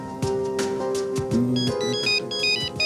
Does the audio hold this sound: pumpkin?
no